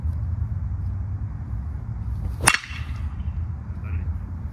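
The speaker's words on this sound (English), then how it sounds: "That ball's hit so hard." A single sharp metallic ping as a Stinger Missile BBCOR baseball bat strikes a ball, standing out clearly over a steady low outdoor rumble with a brief ringing tail.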